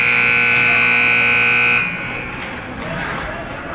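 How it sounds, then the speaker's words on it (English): A loud sustained electronic ice hockey buzzer blares for about two seconds, then cuts off, leaving crowd noise and arena ambience. "and the buzzer goes."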